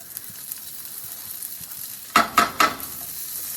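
Peppers and onions sizzle steadily in butter or oil for a breakfast scramble, with three sharp stirring scrapes near the end and no talk over the frying.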